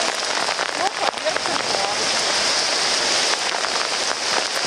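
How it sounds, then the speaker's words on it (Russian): Heavy downpour on a street in Anapa, with drainpipes emptying onto the pavement, makes a dense, steady hiss of rain beating on the ground. It stays loud and continuous throughout, and faint voices may sit underneath. "О, настоящий ливень, друзья."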